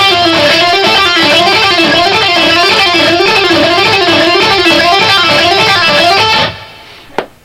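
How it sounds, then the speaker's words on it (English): Electric guitar with intense rock tone plays a fast repeating pick, pick, pull-off, pick, pick, hammer-on sequence, loud and continuous in even rolling cycles, then stops abruptly near the end with a brief noise. "So the whole thing is like pick, pick, pull off, pick, pick, hammer, hammer."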